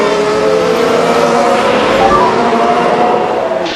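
Formula 1 car in the F1 2019 video game at the Australian Grand Prix, a loud, steady high-pitched engine whine sustained close-up for a few seconds as it crosses the line.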